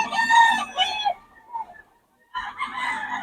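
Roosters crow nearby in long, strained calls, one fading out before a brief silence and another starting, at a rooster farm in Bocaue.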